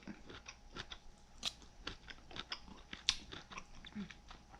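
Close, quiet chewing of smoky, maple-sweetened Brussels sprouts with almonds, with a steady run of soft crunches and bites and no talk.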